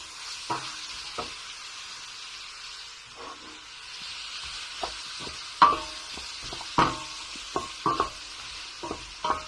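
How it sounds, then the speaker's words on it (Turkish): Garlic frying in a pan for tas kebab, stirred with scattered utensil clinks and scrapes over a steady soft sizzle, close up with no talk. "beraberinde sarımsak ekliyorum. Karıştırıyorum."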